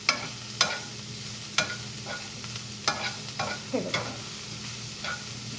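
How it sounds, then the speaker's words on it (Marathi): A vegetable curry of cauliflower simmering in a pan is stirred with a spatula, sharp scraping knocks at irregular intervals over a soft continuous sizzle, close and fairly quiet, no talking. "छानपैकी हे डवळून घ्यायचं की आपली भाजी इथे छान शिजत राहणार"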